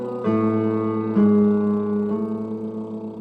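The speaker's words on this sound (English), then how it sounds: "I'll do mine on like a lip buzzing or trill." A singer does a lip buzz trill warm-up, a steady buzzing voiced tone that steps to a new pitch twice, sounding close and moderately loud with no talking.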